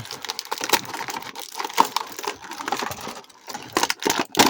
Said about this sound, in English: So let's take out War Machine.